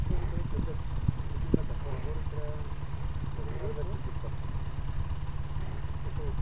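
Engine idling with a steady low rumble and light clatter after finally starting on the seventh try, under people talking close by.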